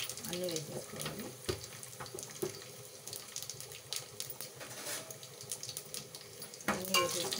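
Chana dal, urad dal, cumin and mustard seeds sizzle in hot oil for sambar, a faint crackling fry broken by scraping stirs and small clinks of a pan.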